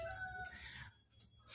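A rooster crowing among backyard chickens, a single faint crow heard from a distance over low background noise.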